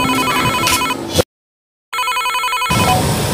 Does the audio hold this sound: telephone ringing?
yes